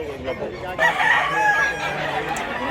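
At a crowded chicken market in Mantalungon, Cebu, many roosters crow at once, a dense layer of overlapping calls at moderate distance with faint background voices.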